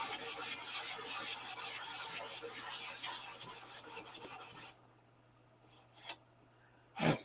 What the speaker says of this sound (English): We got 10 more minutes of sanding.